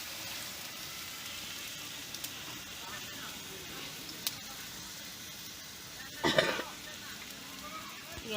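Flat beans and potatoes fry in a pan in a home kitchen, giving a steady, soft sizzle throughout with one brief louder crackling burst partway through.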